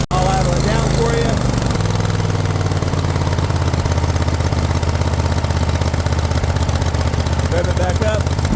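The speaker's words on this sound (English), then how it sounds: "Engine is running nice and smooth. I'll idle it down for you." A 54-inch Cub Cadet RZT L zero-turn riding mower's engine, with 672 hours on it, runs loud and steady close by, then drops to a lower, smooth idle after a couple of seconds and keeps droning.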